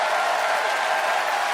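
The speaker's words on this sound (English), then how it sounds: "it is up to you to pick a winner by applause" A studio audience applauds to vote for debater Nathan McIntosh, giving a brief, dense and fairly loud burst of clapping with no voices over it.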